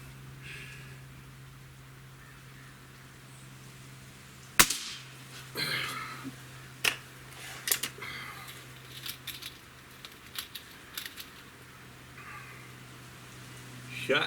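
A Gamo Hunter Extreme .25 air rifle fires one sharp, close crack, followed by a few fainter clicks and knocks over a quiet background hum.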